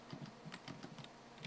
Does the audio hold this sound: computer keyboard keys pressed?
yes